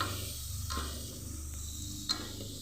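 Tomatoes sautéing over a low flame in a pan for a vegetable kurma, a low, steady sizzle with a couple of brief spatula scrapes, close and quiet, with no voices.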